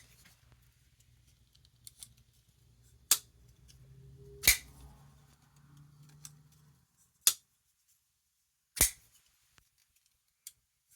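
A snappy folding knife flicks open and shut, giving sharp, close clicks spaced a second or two apart, with a few fainter ticks between them and quiet handling noise underneath.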